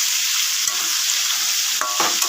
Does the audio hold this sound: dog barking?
no